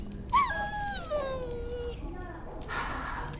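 A dog in Dragon Age: Origins gives a high, wavering whimper with falling whines, close and moderately loud, followed by a brief noisy burst near the end.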